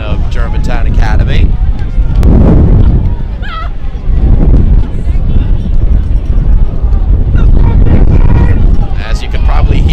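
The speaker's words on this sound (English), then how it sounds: "As you can probably hear, a wind gust" A wind gust buffets the microphone at an outdoor high school football game: loud, rumbling blasts roll on and off throughout the stretch.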